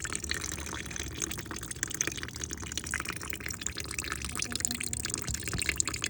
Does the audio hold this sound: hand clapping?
no